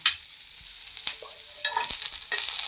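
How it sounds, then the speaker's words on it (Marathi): Chopped onion sizzles in a hot pan while a utensil scrapes and stirs it, soft steady frying broken by a few close scraping strokes, with no voices. "कांदा चांगला लाल करून घ्यायचा आहे आपल्याला."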